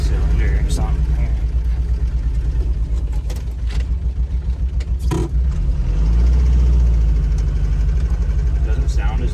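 A truck engine runs rough after losing a cylinder, a low uneven idle with irregular knocks that swells briefly toward the end, while people talk over it.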